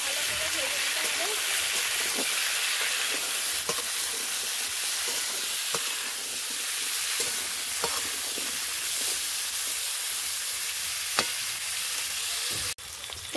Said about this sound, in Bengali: এখানে ওলকপি আর কুমড়ো ভেজে নেব, ভালো করে ভেজে নিতে হবে।